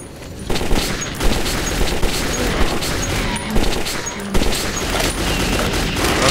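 Gunfire in the video game Metro 2033, loud repeated bursts of shots cracking out in clusters over a continuous roar of battle, with no talk.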